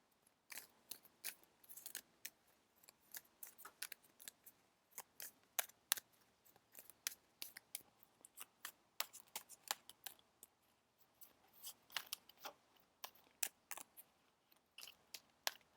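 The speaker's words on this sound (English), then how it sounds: "let's shuffle." Quiet, irregular crisp snaps and riffles of tarot cards being shuffled, close by, in quick clustered bursts with brief gaps.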